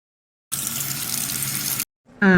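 Tap water runs in a steady close gush for over a second while a child's mouth is washed, then stops; a voice is heard briefly right after.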